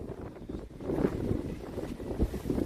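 Wind buffets the microphone outdoors, a continuous loud low rumble with gusty swells throughout and no clear talk.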